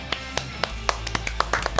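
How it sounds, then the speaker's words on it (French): A short, sparse burst of clapping from a small group of people, a few scattered distinct claps over faint background noise. "On peut les applaudir."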